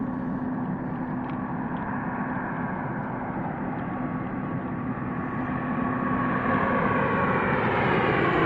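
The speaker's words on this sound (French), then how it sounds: "This one was a propeller plane." A propeller plane comes in to land on a winter night in a park, its engine a steady, droning hum that grows slightly louder and nearer toward the end.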